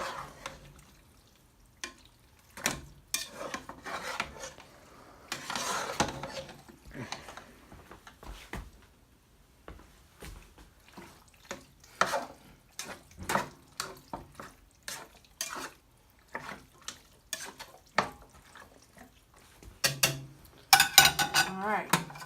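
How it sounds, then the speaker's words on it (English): Taco soup in a pot is stirred with a utensil, producing irregular scraping and clanking against the metal pot with wet sloshing, in bursts separated by pauses, close by. "let's give it a stir"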